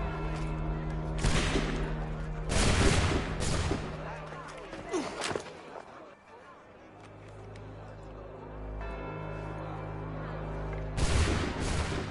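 A gunfire volley in Assassin's Creed III: loud broadband blasts of massed musket fire come in several bursts, with a steady hum and crowd noise between them and another volley near the end.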